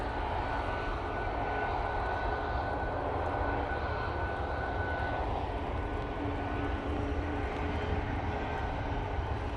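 An airliner in Borussia Dortmund livery departs Manchester Airport on a windy day, heard as a steady, distant engine rumble that stays fairly constant throughout.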